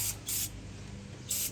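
Three short bursts of spray from a cleaner bottle aimed at the proportioner needle of a paint sprayer, close and crisp, with brief pauses between squirts.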